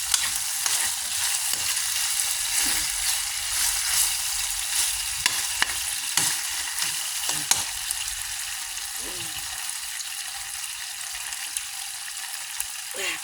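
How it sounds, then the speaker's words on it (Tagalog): Chicken pieces fry in hot oil after the broth has cooked down, producing a dense, steady crackling sizzle throughout with occasional small pops, close up and without talk. "lagyan nyo ng mantika at pirito nyo na"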